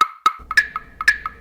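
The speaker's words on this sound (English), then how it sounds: "the Colombian clave sounds like this" Sharp wooden clicks tap out a lilting 6/8 Colombian clave pattern, bright strikes with shorter ringing answers, close and dry.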